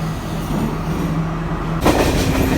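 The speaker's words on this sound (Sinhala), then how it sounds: "ඔන්න ඉතින් ට්‍රේන් එකක් ආවා." A train pulls into a station on the way to Nuwara Eliya, with a steady rumble of rolling rail cars and a louder surge of noise near the end, close by and with no talking.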